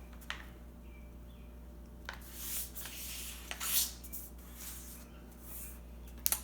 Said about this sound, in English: we're gonna fold it in half